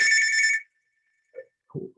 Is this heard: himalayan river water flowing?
no